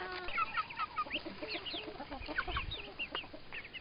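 Bantam and large hens cluck in a backyard poultry yard, with dense overlapping clucks and squawks from several birds close and farther off, no one talking.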